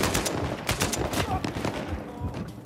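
Enemy gunfire in the video game Uncharted 4, with rapid bursts of automatic shots crackling in quick succession and close, loud, continuous.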